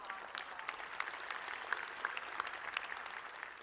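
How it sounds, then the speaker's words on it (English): Commencement-ceremony audience applauds graduates' families and supporters, a soft, fairly distant patter of many hands clapping steadily with little else over it. "Let's give them a round of applause as well."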